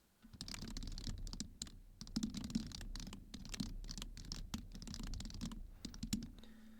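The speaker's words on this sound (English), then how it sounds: "So I'll just type what this prototype is." Keys clatter on a computer keyboard in quick irregular bursts of soft clicks, close and fairly quiet, with no voices.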